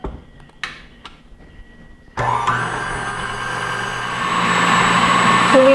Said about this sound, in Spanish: Echamos las claras y las vamos a batir a punto de merengue.